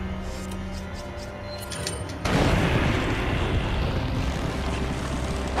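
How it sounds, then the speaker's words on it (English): A rocket launcher explosion in the Resident Evil 4 video game hits as a sudden loud boom partway through, followed by a sustained, rumbling roar that lingers to the end over faint game ambience. "Now rocket launcher."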